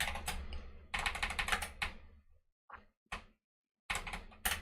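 Computer keyboard typing comes in close bursts of rapid clicky keystrokes, broken by short pauses and a few isolated key presses, with no talk.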